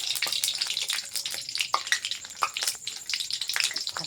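Spices crackle in hot oil with a little water in it, a dense run of sharp pops and spits over a continuous sizzling hiss, close and fairly loud throughout.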